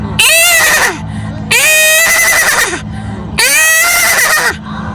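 A man imitates a horse whinnying with his voice, three loud, long neighing calls in a row, each rising and then falling away, with brief gaps between them.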